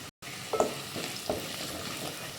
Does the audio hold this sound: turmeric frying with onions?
yes